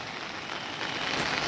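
Heavy monsoon rain pours down in rural Konkan near a river, a dense, steady hiss of drops striking surfaces that swells slightly louder toward the end.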